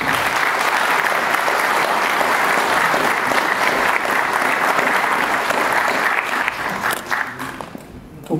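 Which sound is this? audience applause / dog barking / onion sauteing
audience applause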